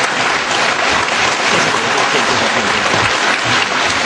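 Warm, sustained applause from a lecture audience greets a Hong Kong University economist taking the stage, thick and even throughout with no voices standing out.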